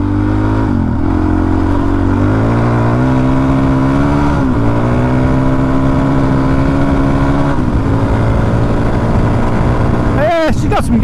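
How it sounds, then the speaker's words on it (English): A Suzuki DR-Z400 dirt bike engine drones steadily as it rides, revving high, its pitch climbing and dropping through gear changes, with wind rush and a spoken voice near the end. "these bikes do rev to like freaking 10 grand probably"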